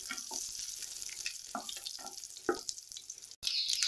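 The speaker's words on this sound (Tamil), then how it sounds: "இத எல்லாத்தையும் நல்லா வதக்கி வச்சுக்கலாம்" Oil sizzling and crackling in a pan as onions and spices are stirred for a mushroom fry, with scraping and soft clatter, close by and steady throughout.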